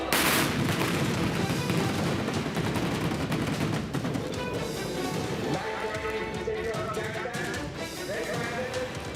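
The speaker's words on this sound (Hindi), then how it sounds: "वीर बहादुर दुश्मन पर गोलियां बरसाते हैं" A patriotic battle dramatization carries bursts of gunfire mixed with what sound like galloping horse hooves and dense effects, loud and continuous, with a narrator's voice running over the action.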